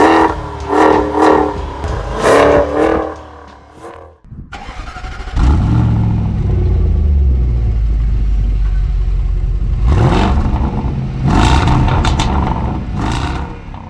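A 2022 Jaguar F-PACE SVR V8 revs loudly in bursts, drops out briefly, then settles into a deep, rumbling idle before sharp throttle blips rise again near the end.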